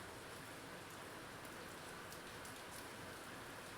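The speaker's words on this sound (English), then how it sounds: "There's a beautiful rain here tonight. It's a soft rain, but persistent." Soft, persistent rain falls at night, a quiet continuous hiss of drops with no voices or other sounds over it.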